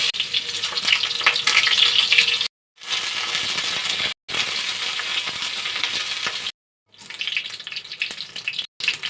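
Pointed gourd slices frying in a pan of oil, a steady loud sizzle broken by several brief silent gaps, with occasional clinks of a utensil turning the pieces.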